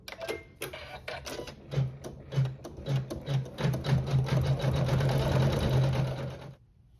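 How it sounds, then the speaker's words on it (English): A sewing machine stitches decorative stitching in short bursts that then run into one steady whirring stretch before stopping abruptly, close and moderately loud. "we'll sew some decorative stitching"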